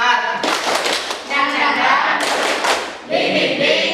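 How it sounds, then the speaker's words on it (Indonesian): Group of students doing a rhythmic spirit clap called tepuk semangat, loud close clapping patterns in bursts mixed with chanted voices. "Tepuk semangat."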